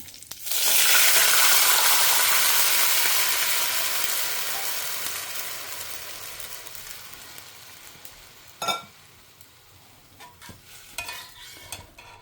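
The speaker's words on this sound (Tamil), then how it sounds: "புளிஜலம் நல்லா கொதிக்க ஆரம்பிச்சிடுத்து." A loud, steady sizzle as tamarind water hits a hot pot, bubbling and hissing continuously, then gradually settling into quieter bubbling with a few clinks near the end.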